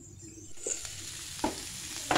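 Sweet pumpkin fries in a pan for mash, a soft, close sizzle that starts quietly and then steadies, punctuated by a few sharp spatula scrapes.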